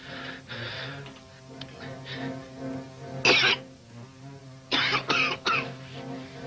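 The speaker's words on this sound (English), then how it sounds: "He's been coughing that way since he came in here." A hospital patient coughs in a series of harsh, close bursts: one near the middle, then three quick coughs in a row toward the end, over a low hum of background voices.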